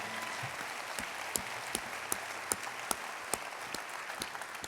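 Applause from an audience at a country music songwriter award tribute, a steady, moderately distant patter of many hands with a few louder individual claps standing out at a regular pace.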